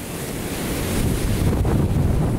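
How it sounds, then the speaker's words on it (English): Big sea wave breaking against the Flamborough Head coast, a broad surging wash of surf that swells and holds loud, with strong wind buffeting the microphone throughout. "Whoa, this is a big wave."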